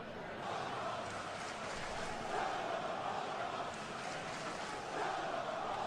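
A wrestling crowd turns against wrestler Charlie Seaton, making a steady, loud wash of hostile noise that swells slightly in places and holds for several seconds.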